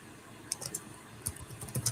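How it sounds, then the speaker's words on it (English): Keys on a computer keyboard are struck in short uneven bursts of clicks, fairly close but quiet, with brief pauses between clusters and no talk. "is it typing? Yeah."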